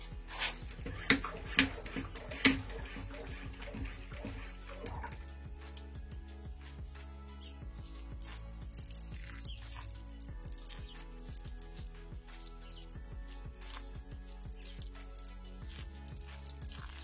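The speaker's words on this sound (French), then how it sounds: "Et on va arroser." Water is poured over vegetable seedlings in a small garden plot, a few splashy drops at first, then a faint, steady trickle and patter close by.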